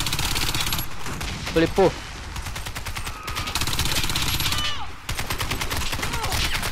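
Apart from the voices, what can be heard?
continuous automatic gunfire in the video game Warface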